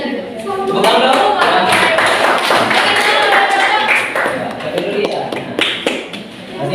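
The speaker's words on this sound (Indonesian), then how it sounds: "Tepuk tangan dong." Students in an Indonesian classroom clap loudly and unevenly, sharp close hand claps and taps bunched together, with some voices mixed in before the clapping thins toward the end.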